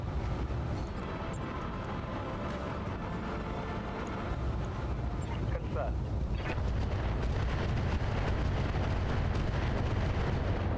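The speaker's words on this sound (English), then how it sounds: "Thunderbolt explosion." Thunderbolt mech exploding in the Battletech video game, a dense, sustained roar and rumble of blasts that fills the whole stretch at steady loudness, with game action noise throughout.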